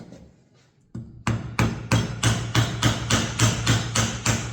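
A chisel struck with a mallet chops a mortise into timber: after a faint scrape, about a dozen sharp, evenly spaced knocks ring out close and loud.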